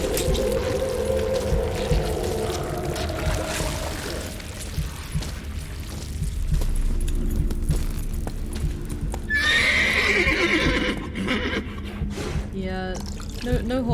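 A horse in The Witcher 3 neighs and whinnies over clip-clopping hooves and a low game soundtrack, the whinny rising sharply near the end.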